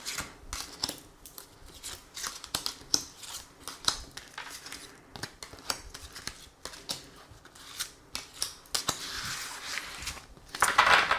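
Tarot cards are handled and drawn for a reading, with close, irregular papery snaps, slides and shuffling flicks in quick bursts and short pauses.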